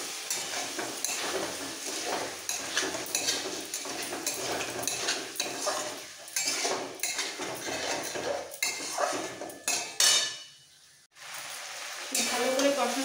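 Cauliflower and potato curry with yogurt sizzles in a pan as a spoon scrapes and stirs it, with uneven bursts of frying, clinks of metal and a short quiet gap near the end.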